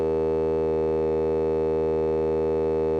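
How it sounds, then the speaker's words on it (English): A Make Noise DPO oscillator with VCO A hard synced to VCO B gives a steady, loud, buzzing harmonic-rich synth tone that holds at constant pitch and level, alone with no talk. "So this is now a hard sync of VCOA to VCOB."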